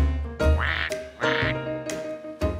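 A cartoon duck gives a series of about four nasal, buzzy quacks, each short and loud, spaced unevenly with a slight pause between them, alone without any talking.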